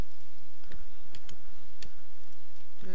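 Sharp, isolated mouse clicks from a computer while working in garment pattern-design software, a handful of dry ticks spread irregularly across a quiet background with no talking.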